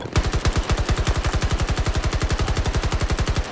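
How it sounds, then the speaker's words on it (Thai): Sustained rapid automatic gunfire in Battlefield 2042, a loud, close, evenly spaced burst of shots running unbroken for several seconds. "โอ้ยทำไมผมยิงได้กากขนาดนี้"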